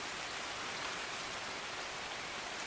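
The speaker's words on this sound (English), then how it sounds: "Oh, it's raining. It's pissing it down." Heavy rain pours in the video game Escape from Tarkov as a dense, constant hiss of downpour that stays steady and loud with no voices.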